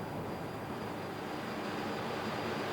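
A VC-10 jet airliner in flight during air-to-air refuelling test trials gives a steady, continuous broadband roar of jet engines and airflow, with no breaks and no voices.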